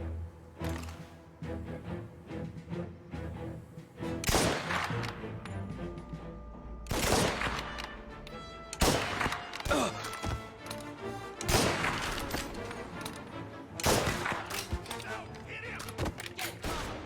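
Shotgun blasts in Mafia: Definitive Edition, several loud booming shots spaced a couple of seconds apart over a steady game background, with someone talking over them.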